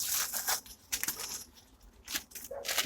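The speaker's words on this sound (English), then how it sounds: "let me put a tear in that" A sheet of paper is torn by hand while setting up a wormery bin, several short rips and rustles in separate bursts, close and fairly loud.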